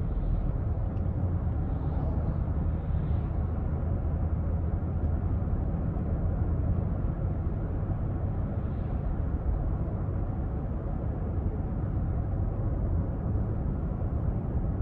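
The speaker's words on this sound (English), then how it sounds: "mostly I'm just hearing the cars zoom by on the highway next to me" Traffic on a highway rushes past beside a 2022 GMC Yukon XL, heard as a continuous broad roar of tire and wind noise at steady loudness, with no voices.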